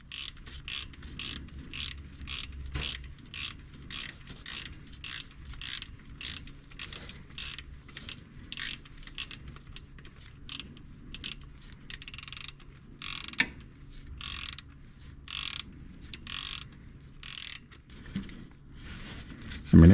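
A hand wrench ratchets out a bolt on the drive belt tensioner of a C7 Corvette, giving rapid bursts of close, crisp clicking that repeat steadily with short pauses between strokes.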